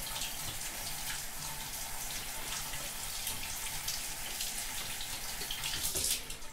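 Liquid pouring off cooked chili meat as it is drained, a steady close splashing stream for several seconds with no talk.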